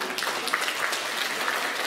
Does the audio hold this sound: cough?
no